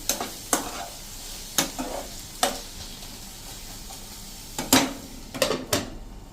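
A spoon stirs cabbage and tomato chutney with sambar masala in a pan, a series of sharp scraping clacks against the metal at irregular intervals over a faint background sizzle.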